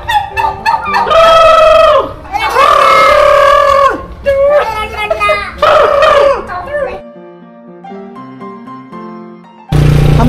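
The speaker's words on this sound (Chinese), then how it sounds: "这个就是火鸡啊！" Turkeys calling at a zoo, loud repeated gobbling bursts close by, with people talking alongside.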